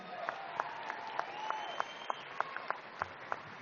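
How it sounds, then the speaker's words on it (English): Audience at a NASCAR fan event applauds a group on stage, a steady wash of clapping punctuated by sharper, regularly spaced individual claps standing out near the microphone, with faint voices and a thin tone underneath. "Another big round of applause for them."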